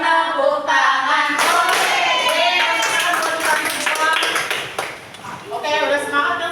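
Children in a third-grade classroom clap their hands together in a lively, sustained burst, with voices mixed throughout and a teacher's speech over the clapping.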